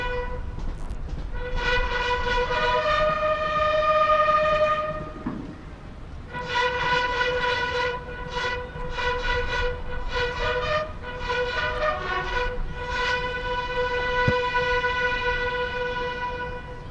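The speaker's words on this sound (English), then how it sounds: "this is the fanfare by the buglers for the entry of the masked band" Buglers sound a fanfare at the Beating Retreat ceremony, bright brassy sustained notes and quick repeated phrases ringing out over the open parade ground, steady and moderately loud for the whole stretch.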